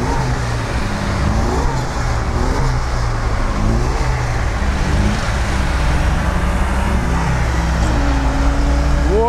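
A 4x4 car drives off-road, its engine loud and close as the revs swell and dip repeatedly under heavy throttle, with a rough low rumble throughout and no voices.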